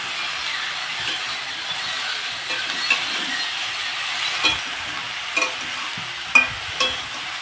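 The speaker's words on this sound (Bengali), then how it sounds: "শুধু সবজিগুলোকেই আমি তেলের সাথে একটু ভাজা ভাজা করে নিচ্ছি" Chopped vegetables stir-fried in oil for a telakucha greens dish make a steady close sizzle, with occasional clinks and scrapes of a utensil against the pan.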